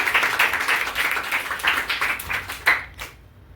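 A class audience gives loud applause for GWO and Sonu Kachhap at a free computer class event, with brisk clapping in waves that fades out at the end.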